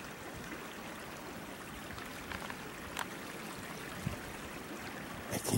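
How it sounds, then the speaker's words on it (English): Soft, steady rushing of flowing water, faint and constant like a small creek, with a few light ticks near the end. "I can hear the water."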